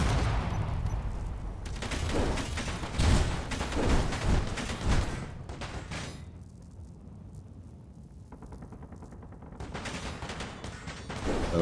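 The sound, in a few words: turrets firing in Space Engineers (video game)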